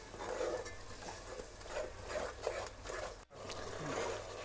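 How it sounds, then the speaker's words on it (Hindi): Tomato paste stirred and frying in a masala for chicken, a steady soft sizzle with repeated scraping strokes of a spoon against the pan, one brief dropout midway. "टमाटर का पेस्ट भी डाल देंगे इसके अंदर। दो मिनट भूनेंगे इसको।"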